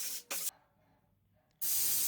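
Paint sprayer coating a metal exterior front door: two short loud bursts of spray hiss, a brief quiet pause, then a sustained strong hissing spray, close and without speech.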